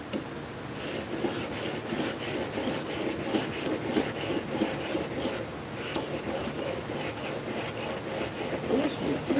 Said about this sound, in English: That's how rough chisel sounds.